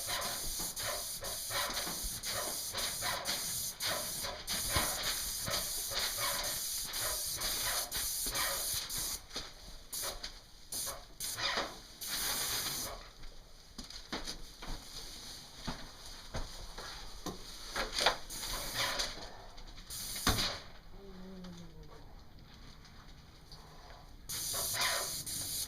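An airless sprayer lays a first coat of lacquer on cabinets with a continuous close hiss in short repeated passes, and occasional clatter and pauses between strokes.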